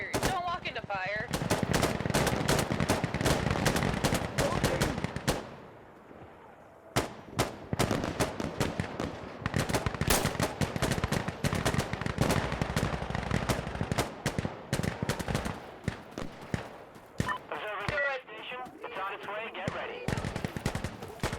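Sustained automatic gunfire from a strafing run in the shooter game Insurgency: Sandstorm, dense loud bursts and rapid cracks nearly throughout, with a brief lull partway and voices faintly under the shooting.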